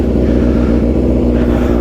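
A Kawasaki Ninja ZX6R 636 600cc motorcycle engine runs just after startup, close and loud, a steady, even idle throb that holds through the short clip.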